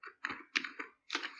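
Computer keyboard keystrokes in a quiet room during Excel VBA coding: about five crisp, close clicks in quick uneven succession, with no voices.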